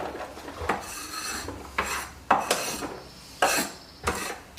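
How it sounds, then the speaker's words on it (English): Six onions being stirred in a pan to caramelize, heard as repeated scraping strokes of a utensil against the metal with light clinks, in an uneven rhythm, close by and with no talking. "Just gonna stir these and caramelize these down."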